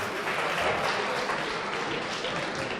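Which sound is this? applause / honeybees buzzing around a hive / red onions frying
applause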